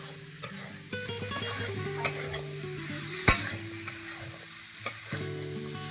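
Fig and potato pieces sautéed with spices in a pan, a steady sizzle broken by repeated scraping stirs and a few sharp clinks of the spatula, close and clear with no talking.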